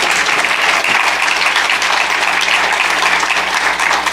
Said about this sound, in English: You just give them a round of applause.